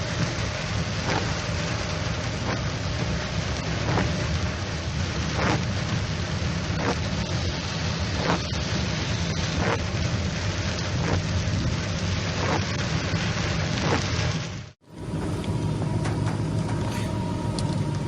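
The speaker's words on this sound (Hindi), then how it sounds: "बारिश के मनाज़िर देख सकते हैं आप लाइव" Heavy rain pours steadily over a Hyderabad city street at the Bahadurpura crossroads during a stormy spell, a loud dense hiss with spattering drops and a brief cut near the end.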